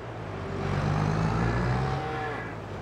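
Cattle moo in Farming Simulator 22 on PS5, a long, low drawn-out bellow swelling and fading over a steady rumbling background.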